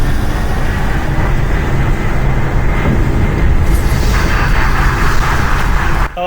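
A train ride in the Doom video game: a loud, continuous rolling rumble with steady mechanical clatter that shifts in texture partway through and then cuts off abruptly near the end.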